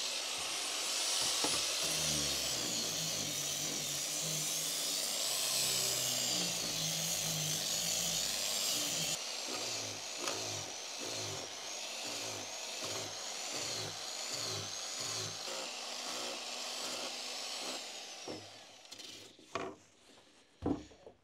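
An electric power sander fitted with 220-grit sandpaper whines and rasps at close range over wood in a mountain house, running continuously with shifting pitch, then tapering into intermittent knocks and handling sounds.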